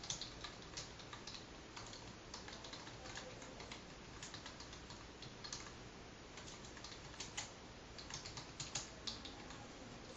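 Steady, rapid clicking of a computer keyboard during coding, with light uneven keystrokes heard close and fairly quiet for the whole stretch.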